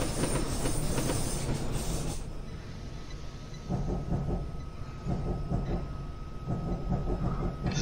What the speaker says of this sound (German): So, dann werden wir hier schön sanft in den Bahnhof einfahren.